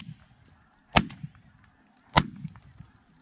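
Two sharp, loud shotgun blasts at ducks about a second apart, each a sudden crack with a brief tail, over quiet outdoor background.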